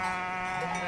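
Black nose sheep bleat while being gathered in Randa, Switzerland, a single sustained, nasal bleat sounding fairly close over a low outdoor background.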